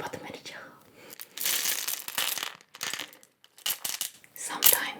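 Small buttons handled and rattled up close, in clustered bursts of clicky, crinkly rustling separated by short pauses, with soft whispered talk alongside.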